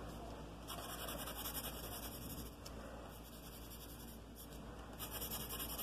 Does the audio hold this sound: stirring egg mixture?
no